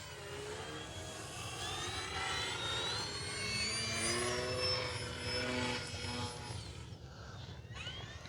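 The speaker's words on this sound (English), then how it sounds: "It's so much fun to fly these little 3D flat foam planes" A small E-flite Eratix 3D flat foam RC plane, 860 mm span, flies outdoors in wind, its electric motor whining steadily and rising and falling in pitch as it maneuvers, moderately distant.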